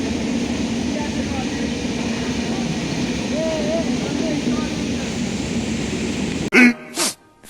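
A steady, loud mechanical rumble of a passing train runs without a break, with voices faintly under it, then cuts off into a few short, sharp bumps.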